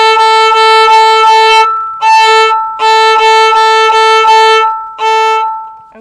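A simple class rhythm is bowed on a violin, loud and close, in groups of short repeated strokes separated by brief pauses, sustained bright tones across about six seconds.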